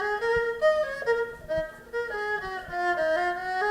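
An erhu plays a song melody in its original, untransposed key: a legato, singing bowed line with sliding pitch changes. It is close and moderately loud, with faint percussive taps underneath and no talking.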